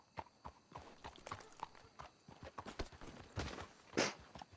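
Horse hooves clip-clop in a quick, uneven rhythm in Red Dead Redemption 2, with several animals moving close by, the beats sharp and irregular, ending in a louder burst of motion.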